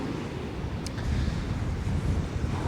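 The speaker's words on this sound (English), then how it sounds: "It's not cold. It's just windy." Steady sea wind on a beach buffeting the microphone, a continuous low rumble with gusty swells throughout and no voices.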